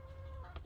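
A hen clucking nearby on a family farm in Morocco, a short burst of low clucks over a steady hum, with a sharper cluck near the end.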